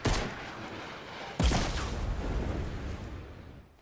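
A bazooka in the Fortnite video game fires with a loud sharp report, followed about a second and a half later by a heavy booming blast that rumbles and decays over the next two seconds.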